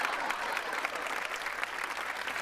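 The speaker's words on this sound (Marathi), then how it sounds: "स्फुराताईंसाठी एकदा जोरदार टाळ्या." A studio audience claps loudly and steadily at a Marathi comedy show, a dense unbroken wash of applause from many hands filling the whole moment.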